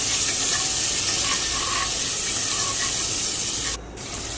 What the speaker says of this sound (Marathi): कढीपत्ता झाल्याच्यानंतर कांदा टाकून थोडंसं मिक्स करून घ्यायचं.